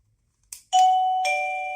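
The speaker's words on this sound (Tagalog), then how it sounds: "Ito po siya, yung bell." A newly bought home doorbell sounds a clear two-tone ding-dong chime, the second note ringing on and sustaining to the end, preceded by a short click.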